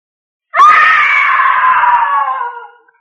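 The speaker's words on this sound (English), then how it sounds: "A woman screamed." A woman's long, loud scream in a radio drama rehearsal, rising sharply and then holding for about two seconds before tapering off, heard alone with no talk around it.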